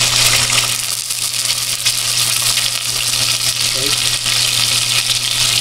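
Soy sauce poured into a hot pan for egg adobo sizzles and fries steadily and loudly throughout, with a brief spoken word near the start.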